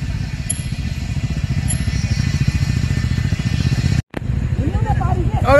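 Motorcycles pass along a street in Gundu, Bhaktapur, their engines rumbling continuously beneath steady talk, with a brief dropout near the end.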